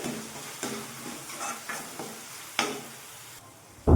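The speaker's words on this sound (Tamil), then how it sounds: "இஞ்சி பூண்டு பேஸ்ட் சேர்த்ததுக்கப்புறம் ரெண்டு நிமிஷம் நல்லா வதங்கட்டும்" Ginger garlic paste sautés in a pan for an egg masala, a soft continuous sizzle broken by a string of scraping spoon strokes, then a sharp clunk of the utensil at the very end.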